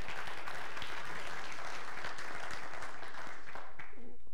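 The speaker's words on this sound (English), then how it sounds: "Go ahead, cheer." Church congregation applauding and cheering together, a dense wash of claps and voices that stays steady and fairly distant before thinning out near the end.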